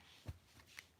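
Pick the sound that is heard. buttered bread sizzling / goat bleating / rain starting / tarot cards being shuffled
tarot cards being shuffled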